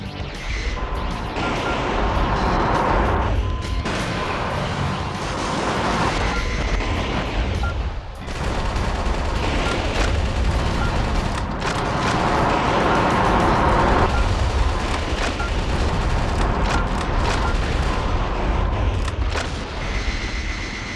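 Missiles and gunfire in the video game Metal Wolf Chaos, a loud, dense barrage of blasts and rattling shots that runs almost without pause, with one brief lull partway through.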